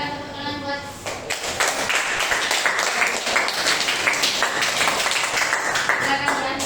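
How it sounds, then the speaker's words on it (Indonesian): A classroom group claps after a learning presentation, a loud, busy burst of hand claps that starts after a brief voice and keeps going to the end, with talk mixed underneath. "silakan tepuk tangan buat"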